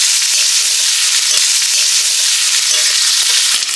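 Radhuni seeds, garlic and green chilli fry in hot oil with a steady, loud, hissing sizzle that runs unbroken, dotted with small sharp pops and crackles near the end.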